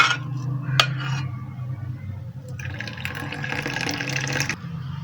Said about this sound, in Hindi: अब हमने इसमें दूध डालना है।